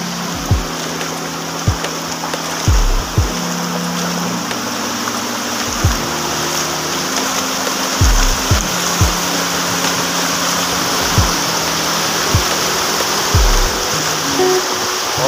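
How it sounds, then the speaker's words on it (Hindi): Strong floodwater rushes steadily past farm fields near Suket Salawad, a continuous broadband roar of flowing water with repeated low thumps from handling noise, loud and close throughout. "ये पानी का फ्लो है।"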